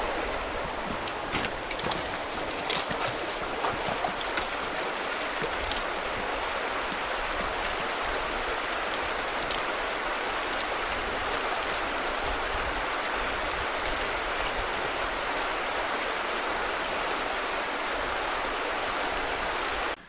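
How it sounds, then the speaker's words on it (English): A small river in the Scottish highlands flows steadily, a constant close rush of water with bright splashing and no break, loud and alone throughout. "Lovely wee river here just at the end of the walk. This is the one you need to cross"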